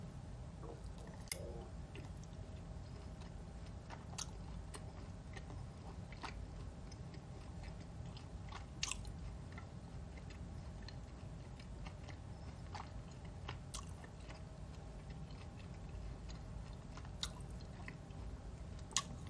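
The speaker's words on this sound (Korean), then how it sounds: "스테이크 소스 있는데 그냥 소금 간만 돼 있는 게 좋아서 소스 안 찍어 먹어요" Someone chewing and eating steak seasoned only with salt, soft wet bites and mastication clicks recurring at an irregular pace over a steady low background hum, close but quiet.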